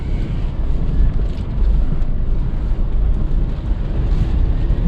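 A Mahindra Bolero Neo SUV drives along a slushy, rough off-road track with a steady, loud, low rumble of engine, tyres and wind, heard from inside and without talk.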